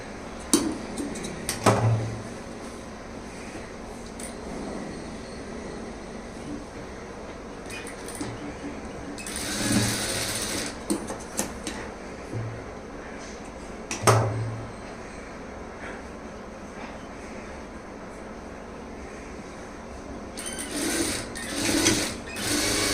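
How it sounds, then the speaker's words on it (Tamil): Close-up sewing machine stitching a double seam on a lined blouse, steady mechanical whirring interrupted by occasional clicks and clatters of handling. "ஷோல்டர் ஜாயினில் பாருங்கள் டபுள் தையல் போட்டுருங்க."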